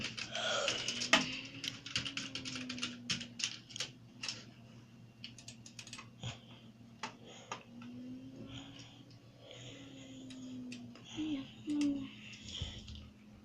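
Keyboard typing in quick, irregular bursts of light clicks, faint and close, with a low steady hum underneath and some soft murmuring in between.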